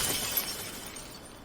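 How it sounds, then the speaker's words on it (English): A crystal fragment shatters in the fighting video game SoulCalibur VI, a bright, broad crash of breaking glassy fragments that starts loud and slowly fades with a sparkling tail. "It's shattered!"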